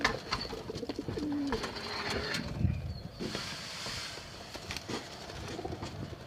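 Pigeons coo softly at close range in a loft, a few low throaty calls over a faint background hiss, with occasional light rustles and no talking.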